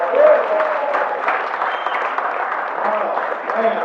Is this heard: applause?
yes